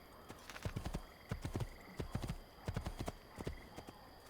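Horse hooves clip-clop in the Assassin's Creed II video game, a quick, steady rhythm of hoofbeats in clusters, fairly close and moderately loud with no talk.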